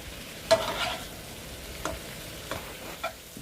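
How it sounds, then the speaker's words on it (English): Mushrooms sauteing in a pan for beef bourguignon, giving a quiet, steady sizzle with a few soft stirring scrapes and taps, close and alone. "now we saute that until the mushrooms are slightly browned and ready to add"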